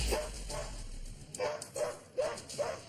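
Aggressive German Shepherd mix dog barking, several sharp barks spaced roughly evenly, moderately near, over background room noise.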